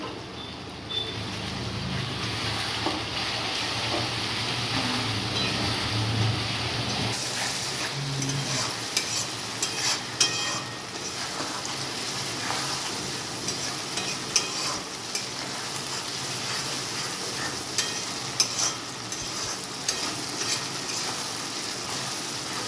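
A spice mix with Kashmiri chili powder fries in a pan for a rohu fish mustard curry, a continuous moderate sizzle with ongoing stirring scrapes and occasional utensil knocks.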